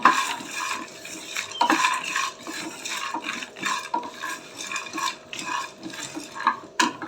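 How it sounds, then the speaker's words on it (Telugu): Spoon stirring whole spices frying in a pan on the stove for a masala drumstick gravy, with steady scraping and clinking against metal and a soft sizzle underneath, close and continuous with no talk. "ఇవన్నీ వేగనిద్దాం బాగా."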